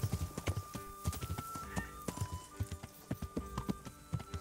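Horse hooves clop in the medieval game Kingdom Come: Deliverance, a quick irregular trot of sharp hoof strikes with a faint tonal hum beneath.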